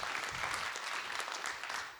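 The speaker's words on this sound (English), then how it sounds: "A round of applause for our 3 volunteers." Audience applause for three volunteers at an AI summit, a brief, dense burst of crowd clapping that fills the room and begins to fade at the end.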